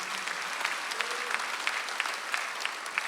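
A church congregation at a Sunday worship service breaks into applause, a dense, even patter of many hands clapping at a moderate distance, steady for the whole stretch with a few sharper claps popping out.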